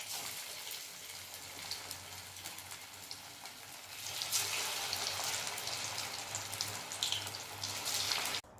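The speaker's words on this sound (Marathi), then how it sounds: "तेल हे गरम झालेलं आहे. आता त्यामध्ये मी हे वडे सोडून घेते." Vadas made from thick poha and moong dal sizzle and crackle steadily in hot oil, a dense, even frying hiss that grows louder and fuller halfway through, with no voices.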